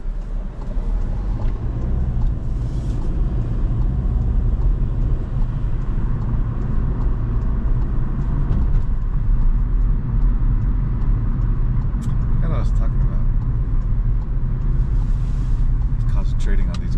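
Cars driving on a road at night, heard as a steady, loud drone of road and engine noise from inside a moving vehicle, with a continuous rumble throughout and occasional brief passing swells.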